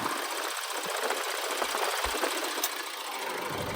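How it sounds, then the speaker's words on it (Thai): A 2014 Mitsubishi Triton's 2.5 VG Turbo diesel engine idles with the air-conditioning compressor engaged, giving a steady, loud mechanical clatter with rapid knocking pulses heard up close and without voices. "พอแอร์มันทำงานปุ๊บ เครื่องมันจะดังอีกทีนึง"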